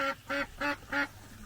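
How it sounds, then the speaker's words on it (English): Ducks at a backyard chicken coop quack four times in an even, steady rhythm, each call short and nasal, fairly close and clear over a quiet background. "you see the ducks been out all night"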